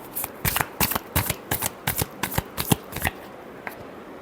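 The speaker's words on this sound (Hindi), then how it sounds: "Last shuffle." Tarot deck shuffled by hand in about a dozen sharp, evenly spaced card slaps, close up and crisp, then trailing off into quiet.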